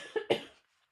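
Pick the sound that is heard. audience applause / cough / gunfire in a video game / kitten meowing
cough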